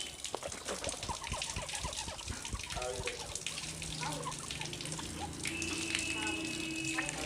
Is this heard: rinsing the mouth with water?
yes